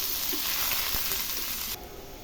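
Sliced onion fries in hot oil in a pan for chicken kosha, giving a close, dense sizzle that drops off sharply to a quieter crackle near the end.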